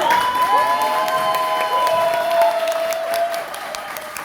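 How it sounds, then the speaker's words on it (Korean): A crowd of party members applauds at the start of a political meeting, sustained clapping with some cheering, and a sustained whistling tone running under it. "여러분 박수!"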